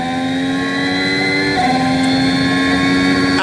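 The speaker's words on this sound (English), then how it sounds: "this is the sound of Pierre Gasly down through the gears into the right-hander of 11" A 2024 Formula 1 car at the Dutch Grand Prix drops down through the gears into a right-hand corner, its high engine whine holding steady and then stepping down in pitch.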